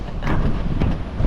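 Strong wind buffeting a microphone on the remote Batanes coast, low rumbling gusts that swell and roar in uneven bursts, close and loud, with no voices.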